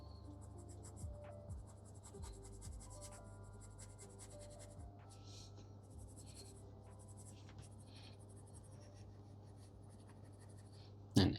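Pencil shading on paper, layering strokes in a drawing: soft, repeated close scratchy strokes that go on steadily for about eleven seconds, quiet and without talk, ending in a brief louder bump.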